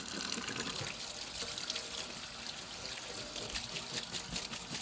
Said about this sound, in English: Let's give this another quick rinse.